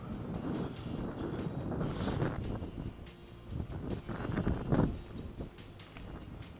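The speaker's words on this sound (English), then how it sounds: "these wind gusts, every single time one substantial one comes through" Gusts of wind on a golf course buffet the microphone in low rumbling bursts, rising and falling over several seconds, with no talking.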